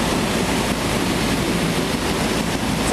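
A Sonex aircraft with an AeroVee Turbo engine gains power from about 35 to 40 inches of manifold pressure, giving a loud, steady, broadband cockpit drone with no break.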